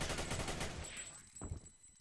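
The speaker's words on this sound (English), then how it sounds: "Zerg tying it up 1-1 with some machine gun fire" Rapid automatic gunfire from a Xonotic match, a dense burst of shots for about a second that then thins out into scattered reports and game effects.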